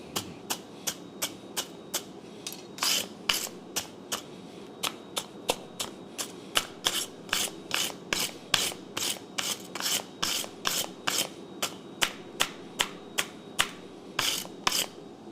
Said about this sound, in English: I'm going to brush this on Anvil Cam.